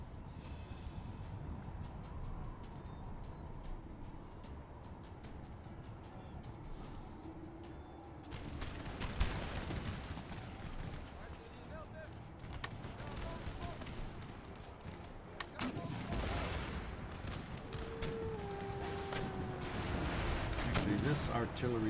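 Cannon and musket volleys crash across a sprawling Empire: Total War battle against the Cherokee, the artillery booms and crackling fusillades rising in bursts over a steady, distant battlefield din, with someone talking through it.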